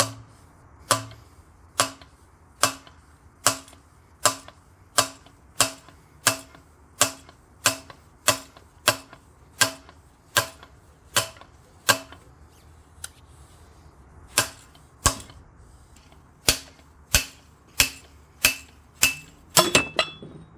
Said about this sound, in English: this next part calls for me to just kind of bash the two pieces apart